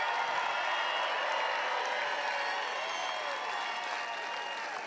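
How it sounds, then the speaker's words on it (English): A large rally crowd applauds the men and women of the United States Armed Forces, dense sustained clapping that fills the space evenly and keeps going without pause, slightly fading toward the end. "So let's have a big round of applause for the men and women of the United States Armed Forces."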